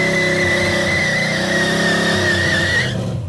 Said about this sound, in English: I'm just taking the gas and throttling into it